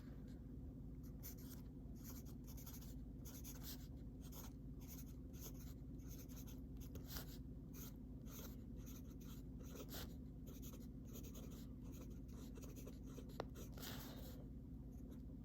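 A broad-nib fountain pen glides across paper in a continuous soft scratch of strokes, faint and close, with no voices.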